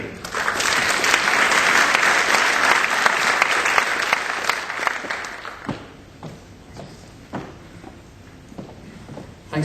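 Audience applause at an Ad:Tech Sydney 2012 conference greets a speaker from EA Sports, a dense, loud clapping that holds for about five seconds, then thins into scattered claps and fades.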